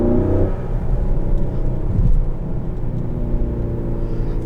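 A 2020 Ford Explorer ST engine rumbles and pulls under acceleration, a continuous low growl that swells and eases as it builds revs, heard from inside the cabin with no talking.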